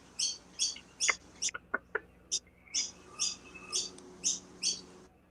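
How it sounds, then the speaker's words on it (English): A bird tweets in a steady series of sharp, high chirps spaced about half a second apart, fairly close and clear, with a few lower clucking notes mixed in partway through against a quiet background. "birds are tweeting, man"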